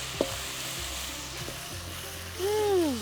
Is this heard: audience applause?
no